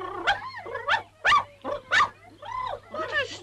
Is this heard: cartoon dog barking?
yes